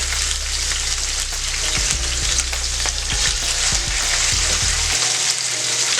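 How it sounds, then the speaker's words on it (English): Salmon fillet searing in a hot pan, loud dense sizzle with crackling spatters like light rain and a few low knocks, close and steady, with a low hum that cuts out near the end. "we're going to cook that salmon on one side"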